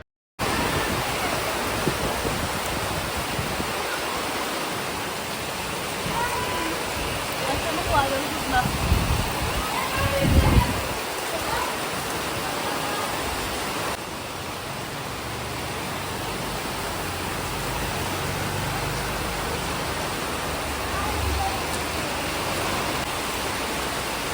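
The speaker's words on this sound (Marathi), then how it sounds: "जो वादळ सुटला ना एवढा पाऊस एवढा पाऊस प्रचंड लेवल हाय केलेला पाऊसने" Heavy rain pours down during a sudden storm, a dense, unbroken roar that holds at a loud, even level for the whole stretch, swelling slightly in the middle.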